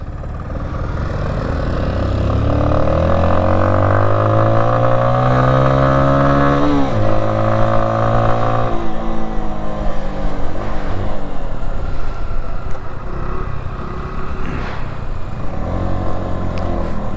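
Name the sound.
CFMOTO off-road vehicles riding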